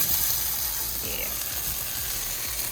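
Lemon blueberry pancake sizzling steadily in a pan, a continuous close hiss of frying batter with no talk over it.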